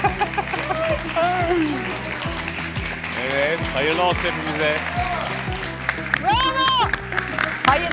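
A studio audience claps and cheers under a lively Turkish game-show host's talk, with bursts of applause rising and falling through the scene alongside voices and laughter.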